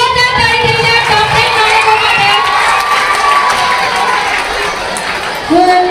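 A large crowd at a results announcement cheers and shouts loudly and steadily, with children's voices mixed in. The roar holds without a break for the whole clip.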